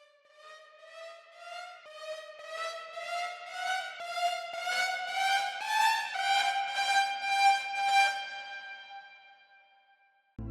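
A siren-like synth tone climbs in stepped, wavering glides, pulsing rhythmically as it rises, then fades out before a short click at the end.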